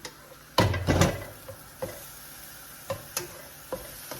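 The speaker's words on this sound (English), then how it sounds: "We're gonna let all this saute in here." Cauliflower rice, vegetables, shrimp, scallops and chicken sautéing in a pan, with a soft sizzle under scattered stirring scrapes and utensil taps, one louder clatter near the start.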